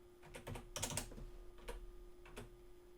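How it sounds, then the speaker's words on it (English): Fingers type on a computer keyboard in a few quick bursts of close, soft clicks, with short pauses between them and a faint steady hum underneath. "we're going to type in 1400 pixels"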